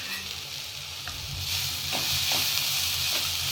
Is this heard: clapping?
no